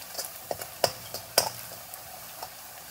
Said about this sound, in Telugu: గార్లిక్ మంచిగా రెడ్గా ఫ్రై అయిపోయింది చూడండి ఇట్లా.